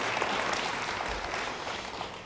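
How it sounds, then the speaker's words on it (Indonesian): A church congregation applauds in a short, steady wash of clapping that fades slightly toward the end, heard alone without talk. "Yang mau beri tepuk tangan bagi dia."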